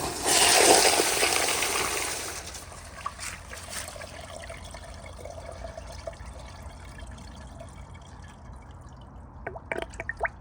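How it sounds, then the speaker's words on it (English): A 2007 American Standard Allbrook urinal flushes nearby with a loud initial rush of water that settles into a steady trickling refill, ending in a few faint drips. "Let me do another flush from this angle just so y'all can see, and hopefully I don't get splashed."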